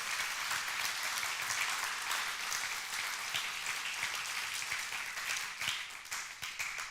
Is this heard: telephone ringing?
no